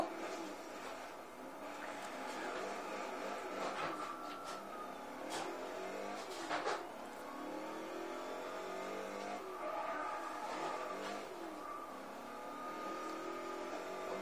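A car drives in the Test Drive Unlimited video game, its engine holding a steady drone with rising and falling revs, shifting pitch and occasional sharp swells across a continuous run.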